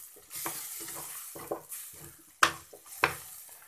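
Egg frying in a pan for a breakfast of fried leftover rice: a soft, quiet sizzle broken by scraping stir strokes, with a couple of sharper utensil clinks against the pan.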